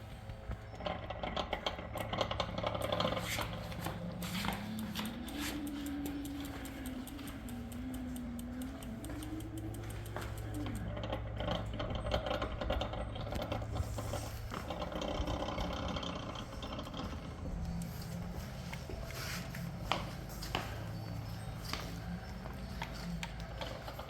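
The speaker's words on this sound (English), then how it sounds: "I think you can actually hear the grinding sound from the differential." A dual-motor differential on an EVRYJourney electric rickshaw grinds with a steady, rough mechanical whir as the bike is moved, joined by a rising and falling tonal motor whine and a faint ticking rattle throughout.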